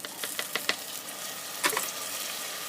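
Chopped tomatoes added to browned onions in a hot pan for village-style dal mash, a soft continuous sizzle with a few sharp crackles and a brief stirring scrape near the end.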